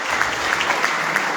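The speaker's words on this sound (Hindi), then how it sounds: "एक बार जोरदार तालियां इनके लिए" Applause from an audience at a company welcome event, steady dense clapping with a few sharper claps standing out, moderately loud and fairly close for a brief moment.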